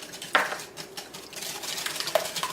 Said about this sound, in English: I want to keep whisking, as I do not want to cook my eggs.